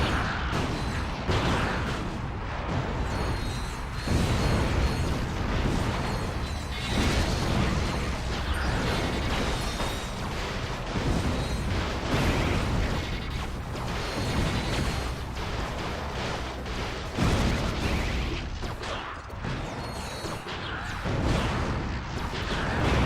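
Repeated blasts and bursts from the video game Ratchet: Deadlocked, loud and dense, continuous crashing booms and pops layered with game effects throughout.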